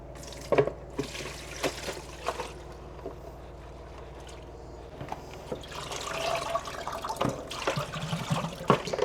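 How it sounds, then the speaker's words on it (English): Water runs and drips steadily as cabbage is strained and rinsed in a sink for homemade kimchi, with splashy bursts rising and falling close by. "So we're gonna strain this cabbage now."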